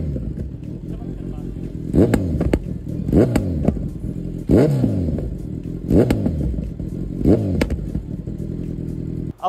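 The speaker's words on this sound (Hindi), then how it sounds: "एग्जॉस्ट के बाद तो आपको पता ही है इसका साउंड इतना प्यारा हो ही जाता है" A 2025 Kawasaki Z900 motorcycle with an aftermarket exhaust blips its throttle in five or six sharp, loud revs that rise and fall quickly over a steady idle, recorded up close.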